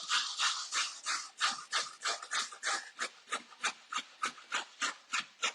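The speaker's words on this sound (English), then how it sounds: "So we'll begin with grating the carrot." A carrot rubbed against a grater in a home kitchen, a steady run of rhythmic rasping strokes about three per second, close and crisp, each scrape rising and falling evenly with no talking.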